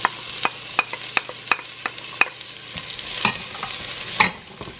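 Onion sautéing in a pan for fish tinola, a steady close sizzle broken by sharp, regular clinks and scrapes of a utensil stirring against the pan.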